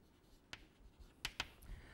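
Chalk or marker writing on a board during a topology lecture: a few faint, brief taps and scratches, a couple of them close together, against a quiet room.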